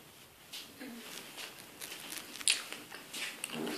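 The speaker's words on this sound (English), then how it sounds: "Sorry for you viewers out there who hate when YouTubers chew gum on video." Someone chews gum close to the microphone, giving soft wet smacks and small crackly bites in an irregular rhythm, fairly quiet, with brief bits of talk between.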